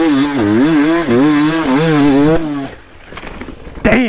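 A dirt bike engine revs up and down in loud, wavering pulses while climbing a hill, then drops away, leaving rough ground noise and a brief final burst.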